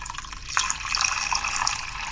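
Water being poured into a container of flax seeds to make flax gel, a steady trickling and splashing pour that runs close and alone for about two seconds.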